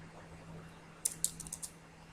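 A short, quiet burst of keystrokes on a computer keyboard, about half a dozen clicks in quick succession, heard alone.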